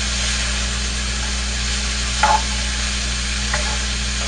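Vegetables sauté in a pan with a steady low sizzle under a constant background hum, with a couple of faint utensil clicks.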